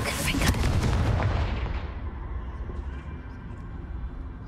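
A Confringo blasting-curse explosion in Hogwarts Legacy hits as a loud, booming, gunfire-like blast with a crackling top that decays over a few seconds into a low rumble.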